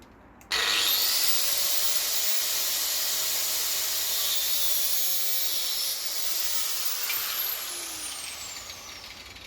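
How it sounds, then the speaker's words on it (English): Compressed air blasting through a cut turbo oil feed hose on a Mazda Miata MX5 NC turbo build, a loud steady hiss that starts abruptly and runs continuously, easing slightly toward the end. "Blow it out from the other end."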